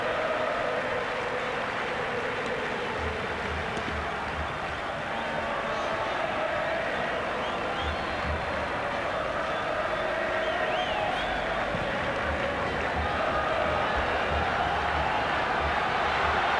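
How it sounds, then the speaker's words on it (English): An Argentina football crowd at a 2002 World Cup qualifier against Peru chants for the national team in a massed, distant roar that holds steady throughout, with faint rhythmic thumps beneath. "We'll let you hear the crowd chant for the national team, asking them to bring home another world championship."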